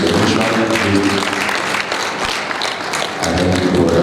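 Audience at a conference session of an annual general meeting clapping, a steady dense wash of applause sustained for about four seconds with no clear pauses, fairly loud and close.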